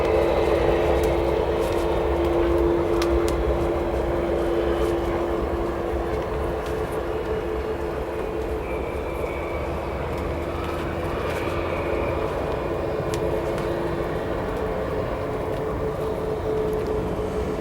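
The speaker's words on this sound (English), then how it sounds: "sound of a Cessna 207 Grand Caravan, or 208 Grand Caravan, arriving behind us" A Southern Airways Express Cessna 208 Grand Caravan turboprop arriving at Chicago O'Hare Airport, heard as a steady droning engine hum with a faint sustained whine, constant and moderately distant for many seconds, with no talking.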